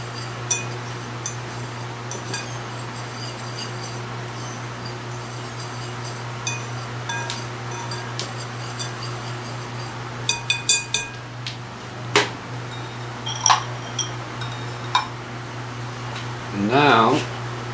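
Baking powder, baking soda and salt are stirred together in a bowl, with scattered light clinks and taps of a utensil against the dish over a low steady hum, ending in a brief voice.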